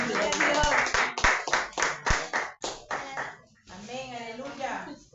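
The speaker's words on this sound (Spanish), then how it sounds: "unas palmas para nuestro Dios todopoderoso" A church congregation claps hands in a steady rhythmic beat, sharp close claps repeating under loud voices that speak or sing over them, with the clapping fading as the talk continues.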